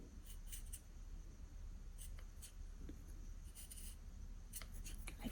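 Scissors make faint, intermittent snips and crisp rustles while cutting fabric for a long open-back dress, quiet and close, with no talking.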